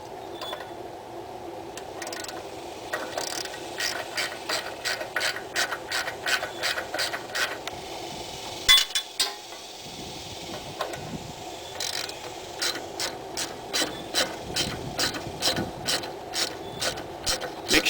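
A hand ratchet with a 5/16 socket loosening air filter bolts on a CrapsMan GT18 mower engine, giving long runs of quick, evenly spaced clicks close up, pausing briefly midway before clicking on steadily.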